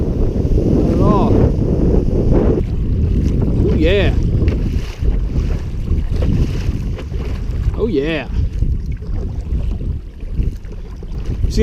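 Strong wind roars across the mic on open water while a paddler strokes a Swift Adirondack Pack 13.6 kayak into the wind; someone speaks briefly twice over the gusts.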